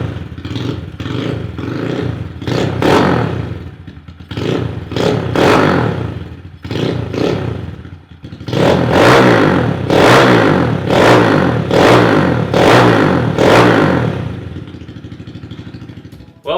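Kawasaki KLX 110 dirt bike engine revving up close and loud in repeated bursts, with short throttle blips early on, then a run of longer, louder revs.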